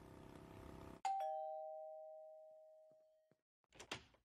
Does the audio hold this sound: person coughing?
no